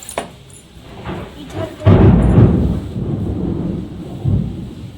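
Thunder and rain as a downpour begins: a deep rolling rumble swells after a couple of seconds and fades slowly, with a second softer rumble near the end over light rain.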